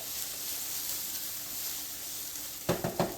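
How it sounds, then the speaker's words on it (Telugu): Asparagus, onion, green chili and curry leaves fry steadily in a pan with a continuous close sizzle, then a few sharp stirring clatters come near the end. "సో ఇది బాగా ఫ్రై అయిపోయింది"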